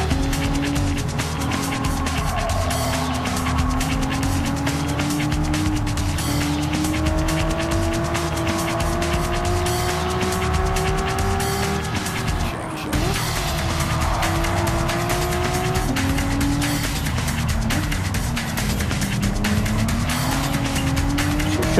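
Race cars in a racing video game, engines roaring steadily and loud throughout with shifting pitch, tires squealing and skidding as cars battle for position.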